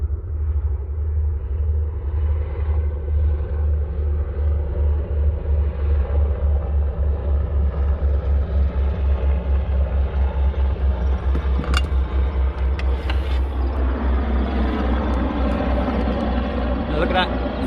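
Military aircraft flying in formation overhead, a loud, steady low rumble of engines droning throughout, with the tone thickening as they pass closer near the end.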